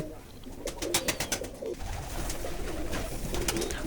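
Pigeons coo close by in a pigeon house set on a wooden platform, with several throaty calls early on and a steady low rumble of cooing continuing underneath.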